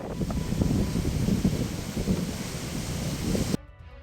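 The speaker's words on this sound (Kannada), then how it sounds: "ಉತ್ತರ ಕನ್ನಡ ಭಾಗದಲ್ಲಿ ಮತ್ತೆ ಮಳೆ ಅಬ್ಬರಿಸಿದೆ" Heavy, steady rain in Uttara Kannada, Karnataka, roars with a deep rumbling wash, loud and continuous, then cuts off abruptly near the end.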